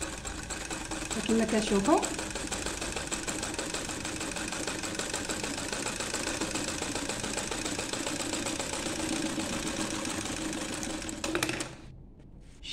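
A sewing machine runs steadily with a fast, even mechanical clatter for about eleven seconds and then stops abruptly. Someone speaks briefly over it.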